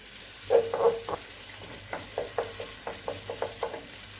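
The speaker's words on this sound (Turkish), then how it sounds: "Evet salçamız bayağı bir kavruldu." Tomato paste sizzles in a pan, a faint crackling fry broken by repeated short scrapes and taps of stirring, close by.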